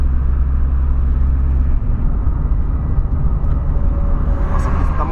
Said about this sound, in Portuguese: a pista tá movimentada, hein? Tá vindo uns caminhão aí, velho.